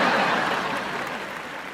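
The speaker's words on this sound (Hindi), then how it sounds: "बंगाल टीम के लिए जोरदार तालियां।" Studio audience applause for the Bengal team at a comedy show, a dense wash of clapping that starts loud and tapers slightly over a couple of seconds, with faint laughter mixed in.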